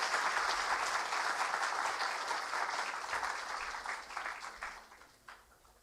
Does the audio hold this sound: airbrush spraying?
no